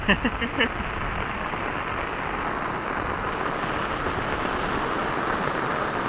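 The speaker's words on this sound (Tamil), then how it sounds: "மழை வந்துருச்சு" Steady rain falls at a lake where people are fishing, a dense even hiss that continues throughout after a few brief thumps at the start.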